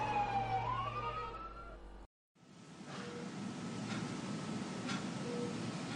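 A siren wails with rising and falling tones, then cuts out briefly before a steady rumble of traffic noise with faint tonal blips continues.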